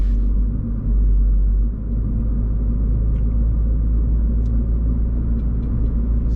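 A 2017 Mini Cooper S F56 fitted with a JCW tuning kit rounds a corner, its steady low engine and road rumble heard from inside the cabin, continuous and even with no voices.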